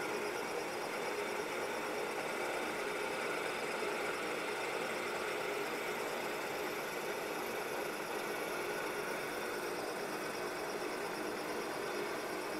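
A Bridgeport milling machine cuts keyways with a coated high-speed steel cutter, giving a steady, even, fairly quiet hum and whir of motor and cutting that continues without a break.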